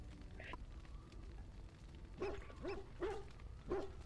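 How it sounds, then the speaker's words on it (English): Dog barking in the fantasy role-playing game Dragon Age: Origins, four sharp barks in quick succession after a brief yelp, fairly close and clear over a low ambient game backdrop. "for once, it's a dog in-game and not actually a dog in the real world that's, you know, making noise"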